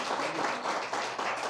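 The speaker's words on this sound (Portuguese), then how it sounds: "Dê uma salva de palmas para Jesus." A church congregation claps together in praise, a steady, lively burst of many hands filling the room with no voices over it.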